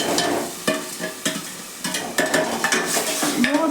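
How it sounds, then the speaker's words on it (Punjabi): Masala roasting with crackled cumin in a pressure cooker for a potato and capsicum curry: close, sizzling fry broken by repeated scraping strokes of a stirring spoon against the metal pot, with no voices. "ਹੁਣ ਇਹਦੇ ਵਿੱਚ ਪਾ ਦਵਾਂਗੇ ਆਪਾਂ ਮਸਾਲਾ ਮਸਾਲੇ ਨੂੰ ਆਪਾਂ ਚੰਗੀ ਤਰ੍ਹਾਂ ਦੇ ਨਾਲ ਭੁੰਨ ਲਵਾਂਗੇ"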